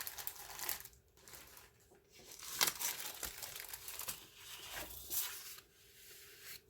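Craft paper is handled and crinkled close by, with soft rustles and crackles in uneven bursts, faint and without speech.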